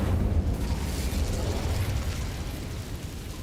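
A fire spell cast in the Hogwarts Legacy video game: a dense, roaring whoosh of flame with heavy low rumble that holds steady, then eases off slightly toward the end, with no talking.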